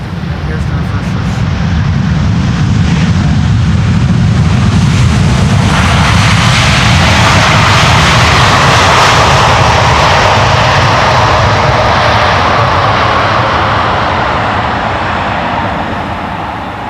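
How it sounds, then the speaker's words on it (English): A landing airliner at Schiphol's Polderbaan runway roars loudly with thrust reversers engaged, a broad sustained rumble swelling and then easing over many seconds, heard from a distance with no clear speech. "And here's the reversers."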